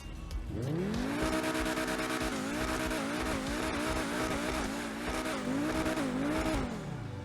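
A Pegassi Zorrusso supercar in GTA Online revving and accelerating, a loud harmonic engine note rising and falling through repeated revs and gear changes, with tire noise underneath.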